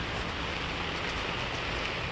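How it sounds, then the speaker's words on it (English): A steady, dense hiss of rain falling on surfaces, even and unbroken throughout, fairly close and moderately loud. "it's starting to rain"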